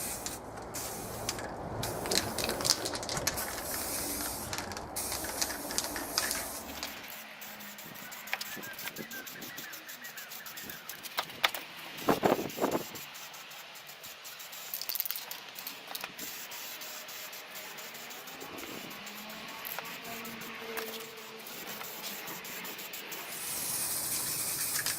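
A final wet coat of spray paint going onto BigTrak parts: a steady, broad aerosol hiss running throughout, with a brief pause and a few clicks and knocks midway before the spraying resumes.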